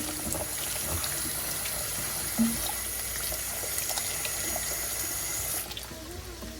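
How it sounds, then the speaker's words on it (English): Tap water runs steadily into a strainer of rice being rinsed in a kitchen sink, a close, continuous splashing hiss that stops near the end, with no talking. "then you're going to rinse it off"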